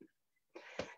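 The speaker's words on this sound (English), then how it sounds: "coughing and spluttering here" A single short, harsh cough sounds close by after a brief near-silence, quiet overall.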